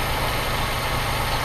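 Honda Civic EP1 engine idling at low RPM, fitted with a cold air intake, a steady, close rumbling hum that stays even and loud throughout, with no voices.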